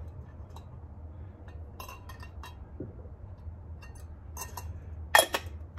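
A metal alcohol stove handled by hand: scattered light clinks and metallic taps, a few brief and one sharper near clink toward the end, over a low steady background hum, with no talking.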